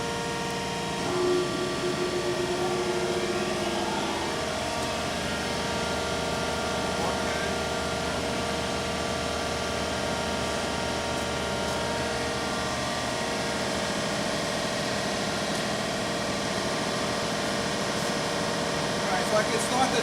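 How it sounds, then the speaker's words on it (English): Hydraulic unit of a DANOBAT RU3500 universal cylindrical grinder running, a steady even machine hum with layered tonal whine that holds constant throughout, moderately loud and close. "I'm going to go ahead and start the hydraulic unit."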